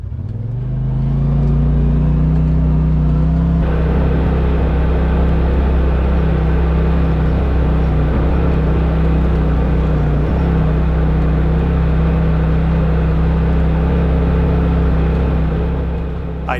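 A Polaris RZR Pro side-by-side drives a swampy trail, its engine droning loud and steady throughout with a constant low hum and no talking.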